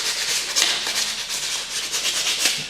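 Fine-grit abrasive is rubbed back and forth over the corners and outside edges of a hand plane sole, producing a continuous close, scratchy sanding sound with quick rhythmic strokes and no speech.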